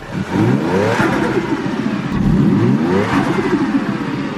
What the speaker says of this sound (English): we've been revving the shit out of the car in this area